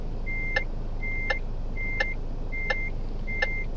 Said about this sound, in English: that beeping is annoying